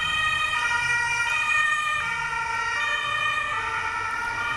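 A two-tone emergency siren wails steadily and loudly throughout on a Hamburg street, with traffic rumbling underneath and no voices.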